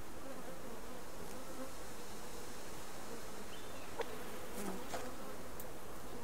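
A steady, dense buzzing of bees from a beehive in the video game Subsistence hums throughout, fairly quiet and continuous, with a few faint clicks.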